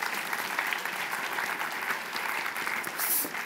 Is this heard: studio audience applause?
yes